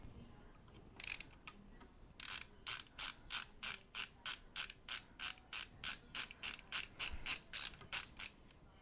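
A screwdriver backing short M3 screws out of the rear of a Prusa 3D printer, a steady fast run of close ratcheting clicks in an even rhythm, heard alone without talk.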